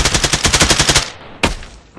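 A weapon in the video game Exfil Zone fires a rapid automatic burst of about a dozen loud, close shots, followed after a short pause by one more sharp shot.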